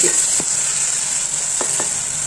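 Gongura leaves and tamarind sauté in a pan with a loud, continuous sizzling hiss, broken by a few faint clicks of stirring.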